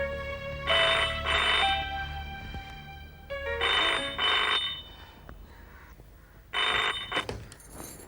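A telephone rings in three separate double bursts of bright electronic trilling, loud and close, with quiet gaps between each pair of rings.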